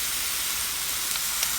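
Steady broadband hiss of steam jetting onto a knitted shawl during blocking, continuous and close, with no talking.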